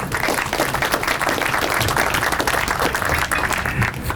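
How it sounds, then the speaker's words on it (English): An outdoor press-conference audience claps to welcome speaker Matt Kennel to the mic, loud continuous applause filling the whole stretch. "will you join me in clapping your hands and welcoming Mr. Matt Kennel to the mic?"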